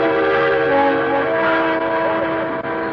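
A train sounds its horn in a long, steady blast with layered tones, loud and close, holding throughout.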